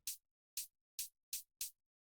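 Five crisp, bright hi-hat hits from a drum and bass remix, short and dry with fast decay, falling in an uneven groove that tightens toward the end, alone and quiet.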